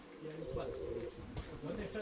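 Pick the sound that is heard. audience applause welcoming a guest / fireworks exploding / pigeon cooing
pigeon cooing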